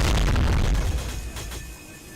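Aircraft guns fire in quick bursts in the Zvezda flight combat game, a dense run of loud booming shots that thins out and fades toward the end.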